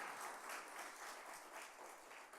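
Church congregation at a Wednesday prayer meeting applauding, a steady wash of many hands clapping that holds evenly through the whole stretch, fairly soft and distant with no voices.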